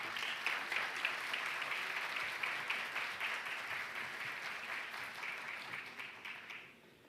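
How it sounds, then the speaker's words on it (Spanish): An audience at a public security seminar applauds a senator's arrival, a full steady round of clapping from many hands that holds for several seconds, then tapers off quickly. "lo recibimos con un gran aplauso a nuestro senador Iván Flores García"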